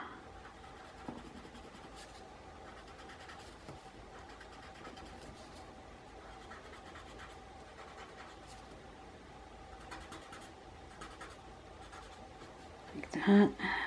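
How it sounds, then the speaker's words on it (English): A white colored pencil scratches across paper while adding highlights, a soft continuous scritching of small strokes held close and quiet, ending with a brief louder knock. "I'll come back in with my white pencil and do a little highlights"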